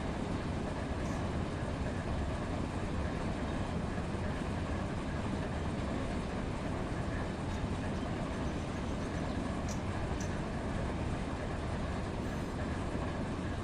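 Light CSX locomotive engines run on rails between Waycross and Jacksonville, producing a steady loud rumble and rattle heard continuously without talk.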